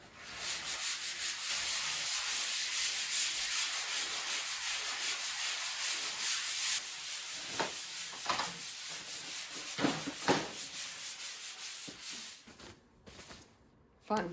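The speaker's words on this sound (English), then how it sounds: "the sanding, and especially sanding a ceiling" Steady, loud rasping of sanding on a drywall ceiling, continuous for several seconds, then breaking into scattered scrapes and knocks before fading.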